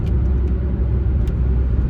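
A truck passes close by on a highway, a steady loud low rumble of engine and tires filling the whole stretch with faint hiss on top, no voices.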